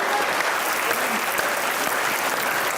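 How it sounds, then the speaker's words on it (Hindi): A studio audience at a televised interview show breaks into applause, a thick, even wash of many hands clapping at once that holds steady and loud throughout. "तालियां।"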